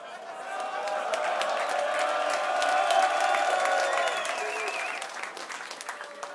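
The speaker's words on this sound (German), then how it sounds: "Applaus" An audience at a German rap battle semifinal breaks into sustained applause and scattered cheers, building to a peak midway and then thinning out, with some voices calling out over the clapping.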